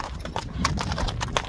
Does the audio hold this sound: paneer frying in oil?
no